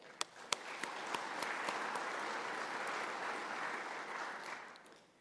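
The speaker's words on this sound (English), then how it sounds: "we need to clap even if they're not here" An audience applauds during a Fort Hays State University winter convocation: soft, distant clapping that rises after a few sharp claps at the start, holds steady, then fades away near the end.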